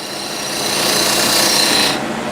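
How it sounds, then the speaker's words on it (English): A spindle gouge cuts a bead into a spinning wood blank on a lathe, giving a steady, loud, close rasping hiss that builds slightly and then stops abruptly near the end. "For that I like to use a spindle gouge, and what I first want, at this line I want a bead."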